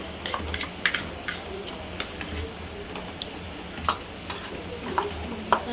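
Chicken curry being stirred in a frying pan with maize flour added, a spoon scraping and tapping the pan in uneven strokes over a steady low sizzle, close and fairly loud.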